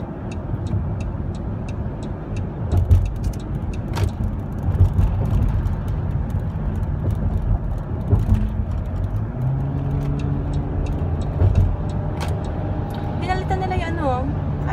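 Car cabin on a busy freeway around four in the afternoon, steady road rumble and engine drone throughout with occasional passing vehicle swells, and a person talking over it.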